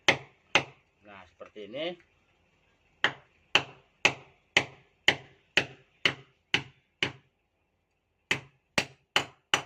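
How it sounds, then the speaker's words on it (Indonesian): Sharp hammer blows drive nails to mount a guitar wall bracket: about fourteen loud, close, evenly spaced strikes in quick runs with brief pauses, after a short stretch of speech near the start. "Cara masangnya ini dipaku"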